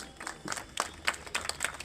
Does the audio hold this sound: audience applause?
yes